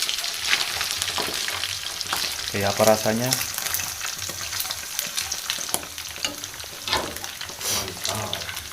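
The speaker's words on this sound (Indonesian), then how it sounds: "Ini saya lagi goreng belut bro" Eels frying in oil in an outdoor camp cooking setting after a fishing trip, a steady close sizzle with stirring clatter, while someone speaks briefly partway through.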